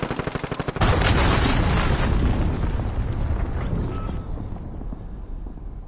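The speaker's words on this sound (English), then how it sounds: "Enemy cruise missile incoming." Cruise missile impact in a multiplayer shooter game: a rapid burst of pops and shots gives way to a loud, rumbling explosion that slowly fades.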